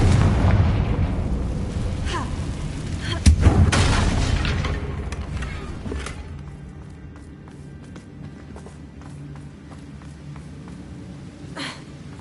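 A Confringo fire spell blasts in a Hogwarts video game, a loud booming explosion early on that rumbles and fades into lower crackling debris, with a smaller pop near the end.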